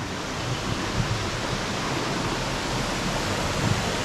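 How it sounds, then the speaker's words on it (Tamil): Kuthumkal waterfall near Rajakkad in Munnar, Kerala, pours over rocks in a constant, dense roar of falling water, steady and close, with no voices. "அங்கே ஸ்டோர் ஆகிற தண்ணி அப்படியே விழுது"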